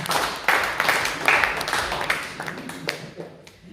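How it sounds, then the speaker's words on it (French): An audience at a church gathering in Yverdon-les-Bains breaks into dense, steady applause that fills the room, then thins and tails off toward the end, with a voice faintly mixed in. "je pense que vous pouvez vous applaudir"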